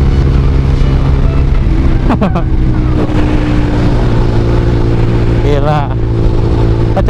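A motorcycle rides through the Kemayoran streets of Jakarta at night, its engine droning steadily and loudly under a voice, with passing traffic noise around it.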